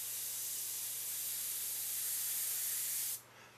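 An airbrush sprays paint on a model of the Millennium Falcon with a steady, close, even hiss that cuts off abruptly near the end.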